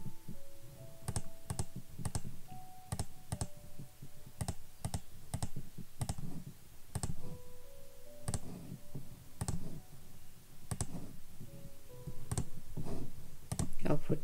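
Computer mouse clicks ring out sharply and irregularly, a dozen or more over a steady low background hum, as someone works through a patient registration form in medical software.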